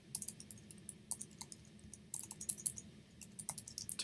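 Quiet, close typing on a computer keyboard, with irregular bursts of light key clicks separated by short pauses, steady low room hum beneath and no talking.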